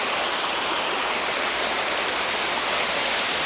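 Ettina Hole waterfall on the Shiradi Ghat route roars as a loud, continuous broadband rush of falling water, close and unbroken with no voices.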